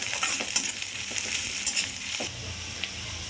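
Green chilies and grated ginger sizzle and crackle in a hot pan, a close, busy frying hiss with quick pops and stirring scrapes, easing slightly toward the end with no voices.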